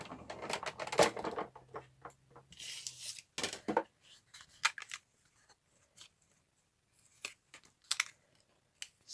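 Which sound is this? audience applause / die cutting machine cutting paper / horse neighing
die cutting machine cutting paper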